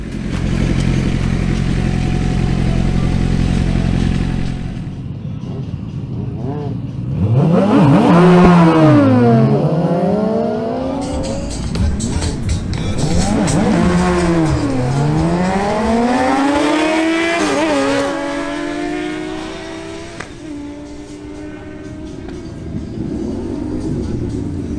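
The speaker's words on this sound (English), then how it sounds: "Next, we have a duel between Juan Vivanco on his Yamaha FZ1, facing Johan Carvajal's Suzuki" A Yamaha FZ1 and a Suzuki GSX-R600 drag race: after a loud idle, engines roar as both bikes launch, with repeated rising whines broken by quick gear-shift dips, strong and close, then fading.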